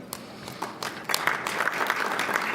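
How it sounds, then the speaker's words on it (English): Applause from a luncheon audience at a winter meeting, a dense patter of many hands that builds after the first second and stays steady and moderately loud throughout, with no talking over it. "give her a round of applause."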